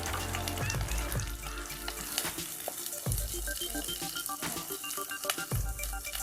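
Onions fry in coconut oil for a Kerala-style sole fish curry, a close crackling sizzle with occasional clunks and scrapes of a spoon against the pan, loud and steady throughout.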